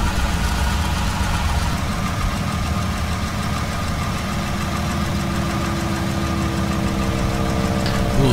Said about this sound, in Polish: Uruchamiamy silnik.